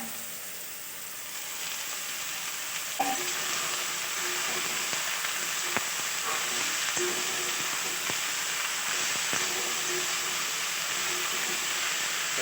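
Drumstick leaves with potato frying in a pan, a steady close hiss and sizzle that fills the background, with a few faint clicks of stirring.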